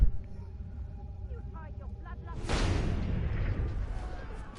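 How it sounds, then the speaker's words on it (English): A sharp gunshot in Assassin's Creed Unity cracks midway, followed by a rolling, booming tail of noise, with faint game sounds beforehand. "That was a gunshot."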